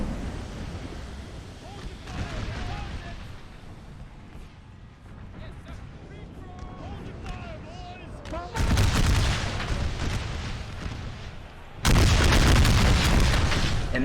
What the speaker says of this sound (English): Confederates forcing all of their artillery shells into this one little grove area